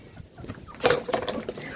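A few soft, brief chicken clucks sound faintly amid quiet background noise.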